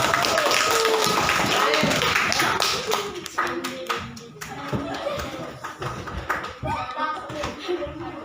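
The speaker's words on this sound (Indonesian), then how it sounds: "silakan kasih tepuk tangan untuk kelompok pertama" A classroom of students claps for the first group in a lesson, scattered hand claps mixed with children's voices and a teacher talking over the noise.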